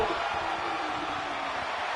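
Wrestling arena crowd roaring and cheering in a dense, steady wall of noise that holds at the same level throughout.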